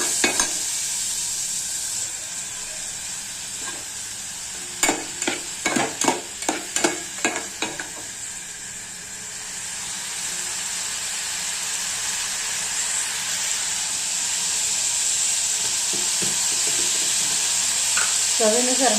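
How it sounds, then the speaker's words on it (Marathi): Masala rice sautés in oil with a continuous bright sizzle, punctuated midway by a quick run of clinking, scraping stirs before the steady frying resumes alone. "तर आता हे तेलामध्ये ना चांगलं परतवून घ्यायचं."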